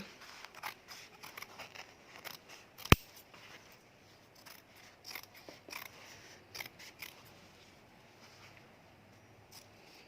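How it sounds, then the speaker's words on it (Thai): Scissors trim the fabric seam allowance on a pair of trousers being sewn, giving soft, scattered snips with one sharp, louder cut near the start, all close and quiet with no talking. "เราก็จะเล็มตะเข็บตรงที่เราเย็บเนาะ เล็มตะเข็บแล้วก็นำไปโค้งนะคะ"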